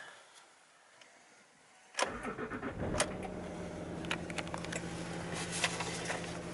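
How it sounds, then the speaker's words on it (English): A 2007 Land Rover Range Rover Sport 2.7 TDV6 diesel starting up: a quiet interior, then a sudden crank and catch about two seconds in, settling into a steady low idle with small clicks and rattles on top. "so let's start the engine."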